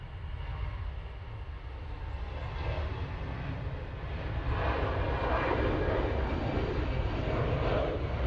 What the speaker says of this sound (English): that's the EasyJet that we wanted to catch going to Milan